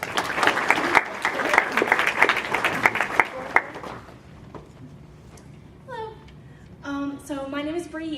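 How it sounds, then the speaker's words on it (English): An audience in a school conference hall claps loudly for a student presenter, the applause fading after a few seconds, then a young voice begins speaking. "Please give a warm round of applause to welcome Bree."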